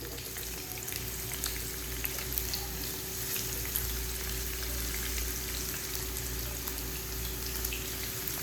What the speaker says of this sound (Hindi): उस तेल में अब क्या करूँगी, मैं जो लच्छेदार प्याज काटे हुए थे वो इसके अंदर ऐड करूँगी।